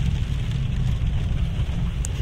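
Rain falls steadily as a dense, loud wash of noise close to the microphone, with strong low rumble from wind buffeting.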